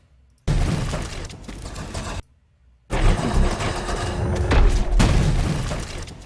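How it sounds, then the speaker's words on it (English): A cannon-like weapon blast from the video game Paragon sets off a loud burst of crashing, shattering debris, followed after a short silence by a second sustained roar of explosive rumble and rubble. "It just sounds like a cannon or something."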